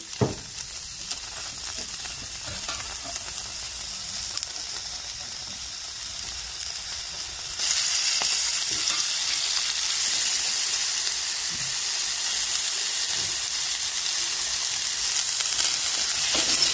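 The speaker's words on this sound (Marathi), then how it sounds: "आता एक कांदा, लसूण आणि टोमॅटो एकत्रच भाजून घेते।" Onion, garlic and tomato fry together in a pan for chicken curry, giving a steady, dense sizzle that grows louder partway through, close and continuous with no talk.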